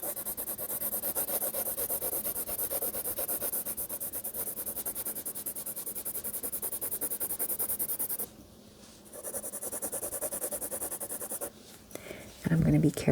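A pencil scratches and rubs across paper while sketching a cozy cabin scene, a continuous close, fine rasping that stops briefly twice, with a person talking over it.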